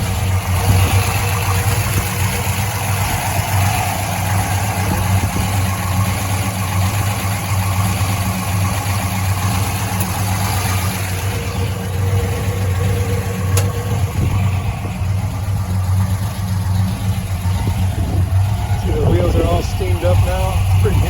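A 1965 Plymouth Belvedere's engine idles steadily with a deep, constant low rumble, close and loud, while someone talks intermittently over it.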